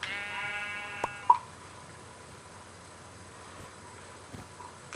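A single sheep bleat rings out at the start, followed by a couple of sharp clicks, then quiet background hiss.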